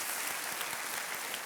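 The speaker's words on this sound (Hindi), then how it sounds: "तालियों के साथ इनका एक बार स्वागत किया जाए।" Studio audience applauding steadily to welcome contestants on the Hindi quiz show Kaun Banega Crorepati season 7, a dense, even wash of clapping throughout.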